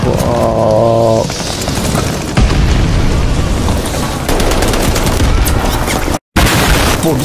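RPG rockets exploding in the Call of Duty Vanguard shooter, with loud repeated booms and bursts of gunfire layered over continuous battle noise and a brief dropout near the end.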